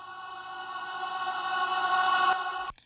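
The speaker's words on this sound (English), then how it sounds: "I just throw a bunch of reverb and then I reverse it" A swelling, washed-out vocal tone rises in loudness over a couple of seconds and cuts off abruptly, like a reversed reverb tail.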